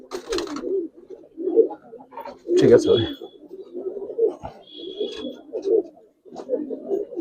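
Silver Giribaz pigeons coo repeatedly in low, rolling calls at close range, with a voice briefly talking among them.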